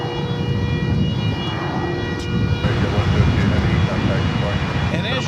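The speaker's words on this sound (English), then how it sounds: "the plane I thought might have been a Turkish was instead Iberia, headed back to Madrid" An Iberia airliner bound for Madrid passes at DFW Airport at night, a steady broad engine roar holding at moderate loudness and swelling slightly midway, with faint tonal hum lines and a brief higher whine near the end.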